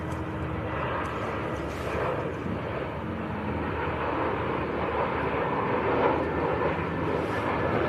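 An EasyJet airliner arriving from Malaga at Manchester Airport gives off a broad, steady jet roar, loud and sustained with slight swells and no voices over it.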